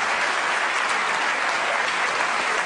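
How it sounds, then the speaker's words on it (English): Sustained applause from a live audience at a TED talk after a mental math demonstration, a steady dense clapping that fills the space evenly with no speech over it. "let's give all 4 of these people a nice round of applause"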